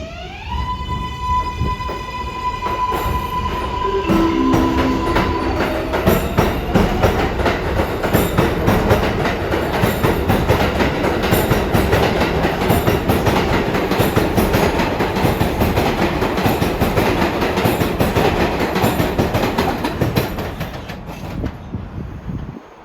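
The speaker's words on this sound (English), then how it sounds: "we see an eastbound local rounding the curve here" An eastbound local on the NYC 7 line rounds a curve near 46th Street–Bliss, with a loud rumbling pass, rhythmic wheel clatter and a brief high squeal at the start, fading out at the end.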